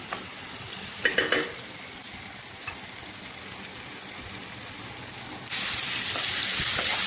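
Chicken and vegetables sizzle and simmer in a pan, a steady frying hiss with a few clinks of stirring early on, then the sizzle jumps louder and brighter near the end.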